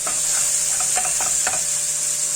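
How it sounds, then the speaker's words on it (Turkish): Red pepper flakes and thyme stirred through a pan of peppers for a breakfast cheese dish, soft scraping strokes of a spoon over a constant bright sizzle of frying. "Şöyle bir tur karıştırıyorum."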